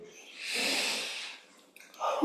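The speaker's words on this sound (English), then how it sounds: "Let's take a deep breath in." One deep breath drawn in through the nose, a soft, breathy rush of air that swells and fades over about a second, close and alone, followed by a brief vocal exhale at the end.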